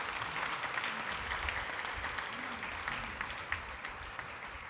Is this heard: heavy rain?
no